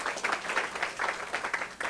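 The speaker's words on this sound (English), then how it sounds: "Let's give David and Haley a round of applause" A small audience at a community talk on psychedelics, dreams and rituals gives a short burst of applause, with individual claps audible in a brisk, uneven rhythm over under two seconds.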